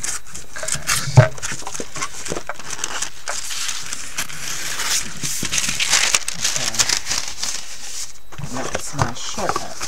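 Paper liner creased and cut for a soap mold, steady crinkling and rustling handling noises with a few sharper snips, close by and continuous under a talking voice.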